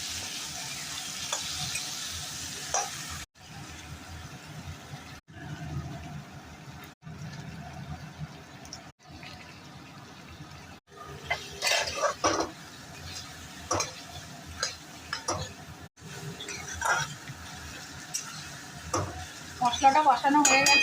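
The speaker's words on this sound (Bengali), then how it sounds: "তো এখানে মাথা ভাজাটা আর আলুটা একসাথে ভেজে নিচ্ছি।" Rohu fish head and potato pieces frying together in a pan, a steady sizzle with stirring scrapes and occasional utensil clatter, close and moderately loud, with brief pauses between bursts.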